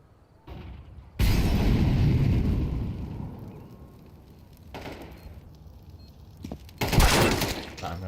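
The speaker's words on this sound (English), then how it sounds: "Flashbang." A flashbang grenade going off in Counter-Strike, a sharp loud burst followed by a ringing, fading roar, then further loud blasts and clatter amid game effects.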